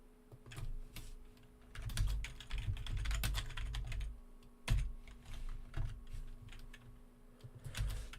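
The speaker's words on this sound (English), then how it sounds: "I'm still typing." Steady typing on a computer keyboard, close and fairly quiet, with dense clusters of key clicks in uneven bursts and brief pauses, over a faint electrical hum and no talking.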